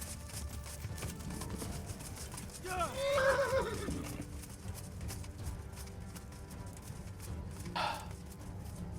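Horse in the medieval game Kingdom Come: Deliverance whinnies loudly once amid steady clip-clopping hooves, with game ambience and a voice talking briefly.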